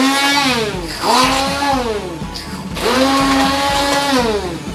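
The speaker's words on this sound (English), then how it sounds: "I'm gonna actually blend it up right now in the pan." Immersion blender whirring through simmering marinara sauce in a pan, loud and close, its motor pitch rising and sagging as it bogs down in the thick sauce over two long bursts.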